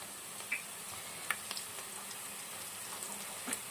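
Onions and curry leaves frying in a pan for a capsicum masala curry, a quiet steady sizzle with a few faint crackles and pops, no voices.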